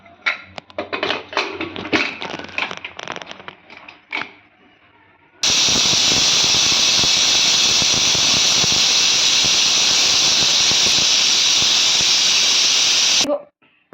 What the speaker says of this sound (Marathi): आता आपण कुकरचं टोपण लावून घेणार आहोत आणि तीन शिट्ट्या घेणार आहोत